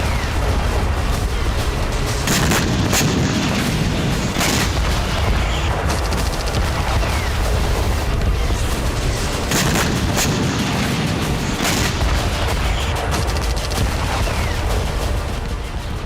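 A Russian Pacific Fleet war drill with warships and submarines produces dense, loud, continuous rumbling explosions and gunfire, with heavier booms standing out every few seconds throughout.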